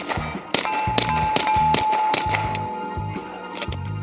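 A PSA Dagger pistol fires several shots at close range outdoors. Sharp, loud cracks come in an uneven rhythm, each followed by a ringing metallic tail.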